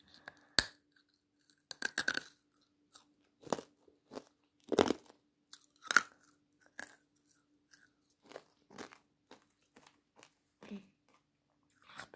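Close, quiet crunches of someone biting and chewing sour Toxic Waste passion fruit candy come in a series of sharp, separate bursts with short pauses in between.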